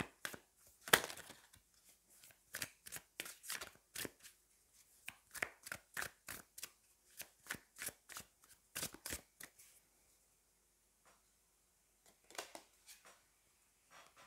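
Tarot cards are handled and shuffled up close, bursts of crisp riffling and flicking card noise in irregular clusters with brief pauses, a near quiet stretch late on before a few final soft shuffles; no talking.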